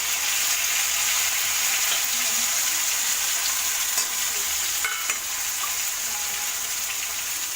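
Tomatoes frying in a pan with curry leaves, green chilies and garlic give a loud, dense sizzle, with scraping stirs and a few clinks from a utensil.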